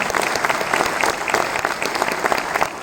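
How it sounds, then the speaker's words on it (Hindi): Audience applause in a hall, dense and steady throughout with a few scattered cheers, loud and close with no pauses. "तो आप अपने लिए जोरदार तालियां कर सकते हैं।"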